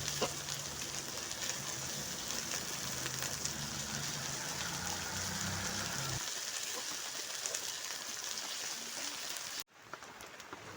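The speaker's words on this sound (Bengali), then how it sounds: "আদা রসুন বাটাটা দিয়ে একটু ভালো করে কষিয়ে নিতে হবে" Ginger garlic paste sautéing in a hot pan, a steady dense crackling sizzle with a low rumble under it for the first half that drops away, a brief gap near the end.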